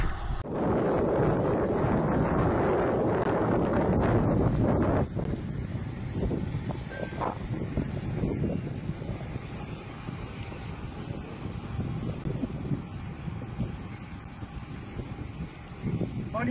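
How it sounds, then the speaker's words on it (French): Heavy wind buffets the microphone throughout, a loud continuous low rumble while riding a fixie bicycle (Massacan Fissa) into a headwind outdoors, with the roar easing slightly after the first few seconds. "on essaie d'éviter le vent de face parce que c'est un peu un cauchemar"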